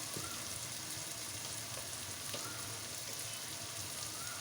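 Capsicum and potato frying in a pan as chilli powder, coriander powder and garam masala are stirred in, a steady dense sizzle throughout with faint stirring underneath.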